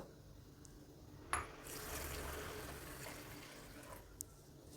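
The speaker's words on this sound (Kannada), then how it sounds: "ಮೊದಲಿಗೆ ಅಕ್ಕಿ ರವೆನ ಒಂದು ಎರಡು ಸಲ ತೊಳಿಬೇಕು" Rice semolina being washed in water gives soft swishing and sloshing in a vessel, with a sharp clink of the container and gentle trickling, fairly quiet and close.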